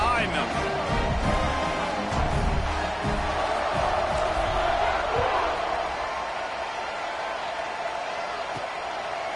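A football stadium crowd roars and cheers at a college game between Mississippi State and South Carolina, a broad sustained din of voices and whoops that swells then eases, with commentary talking over it.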